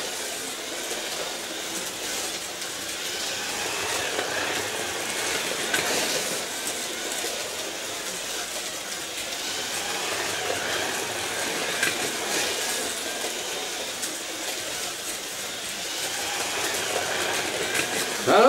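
Carrera slot cars, a Panoz and a Corvette C5, race around a plastic track with a continuous whirring electric hum that stays fairly loud and even throughout.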